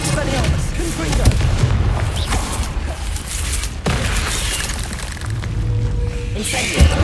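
A Confringo explosive spell going off in Hogwarts Legacy, loud booming blasts and bursts repeating over a rumbling battle backdrop, with a voice calling out briefly.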